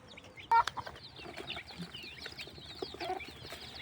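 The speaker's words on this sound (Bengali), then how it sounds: "মুরগিগুলা" Local village hens in Assam cluck close by at feeding time, a busy stream of soft clucks and calls with one sharper squawk near the start.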